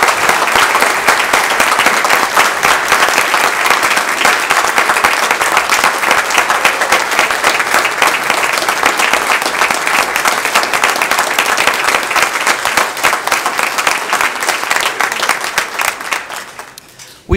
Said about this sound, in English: Let's give all these folks who received awards today another round of applause